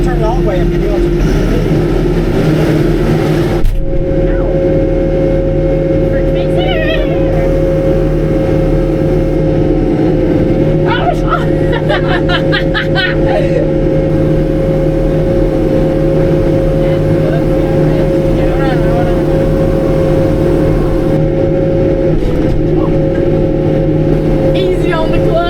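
Large farm tractor engine running loud and steady at high throttle, a constant droning hum with the pitch holding after a rise, with people talking over it close by.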